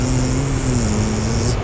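A thin, buzzing car engine in Gran Turismo 4 drones at a constant pitch, loud and close, with no talking.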